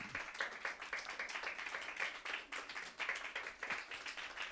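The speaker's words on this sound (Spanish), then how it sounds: "Dele un aplauso al Señor" A church congregation claps during a sermon, giving a continuous, moderately distant applause with a steady, lively texture of many hands.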